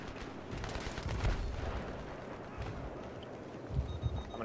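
Gunfire crackles through a Battlefield 3 Conquest match on Damavand Peak, a dense run of mid-distance shots with heavier thumps near the end, continuous with no talk.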